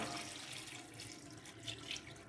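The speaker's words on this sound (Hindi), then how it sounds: "अब इसमें 4 कप पानी डालेंगे" Running water pours steadily into a cooking pot for a couple of seconds, a soft continuous splashing stream close by with no talking.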